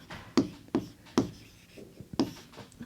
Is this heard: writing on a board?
yes